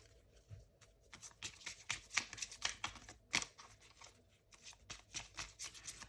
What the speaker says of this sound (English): I've already pre-shuffled the cards, but I'll shuffle them again on camera.